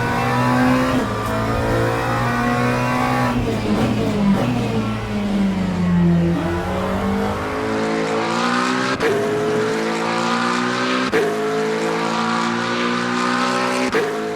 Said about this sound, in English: I personally like the ACC sound of the McLaren more